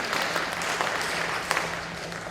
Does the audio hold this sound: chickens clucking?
no